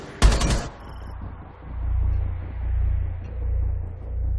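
Gunfire in the video game Rainbow Six Siege: a sharp, loud burst of shots right at the start, then a low, steady rumble of game ambience for the rest.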